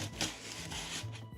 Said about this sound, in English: go over with the sandpaper